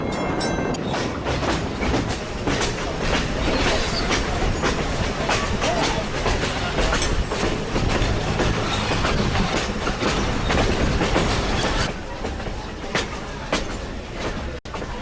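A train rolls past steadily, rhythmic clickety-clack of wheels over rail joints, loud and close, easing slightly near the end, in New Jersey.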